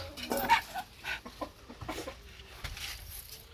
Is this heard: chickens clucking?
yes